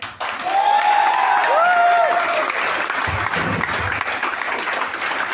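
An audience at a stage event claps heartily, with whistles rising over the sustained applause early on. A voice cuts in briefly partway through as the clapping carries on.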